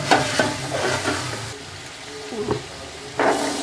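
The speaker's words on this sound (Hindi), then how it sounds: "मसाले में 5 से 7 मिनट भूनने के बाद हम इसमें ऐड कर देंगे मटर।" Chicken frying in masala for a chicken and pea pulao is stirred in a pan, giving a steady sizzle with scraping stirs and a few clanks, no talk over it.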